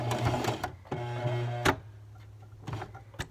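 A domestic sewing machine stitches in reverse on sweater fabric, close rapid mechanical whirring in short bursts separated by pauses and clicks.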